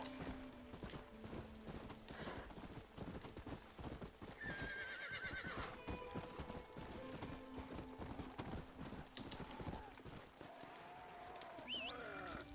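In the Red Dead Redemption: Undead Nightmare video game, a horse gallops with a fast, steady clip-clop of hooves and neighs now and then, mixed with game music and other effects.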